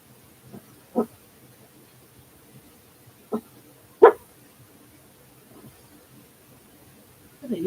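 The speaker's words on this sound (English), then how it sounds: "You don't usually bark like this." Dog indoors giving a few scattered, short barks and low grumbles, several seconds apart, moderately close against a quiet room.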